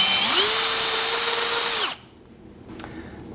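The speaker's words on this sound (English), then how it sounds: "I'll just barely drill those out." Power drill briefly opening up misaligned bolt holes in a miter saw upgrade part for a Bosch GCM12SD axial glide saw: a loud, close, steady high whine for about two seconds, then a sudden stop and quiet.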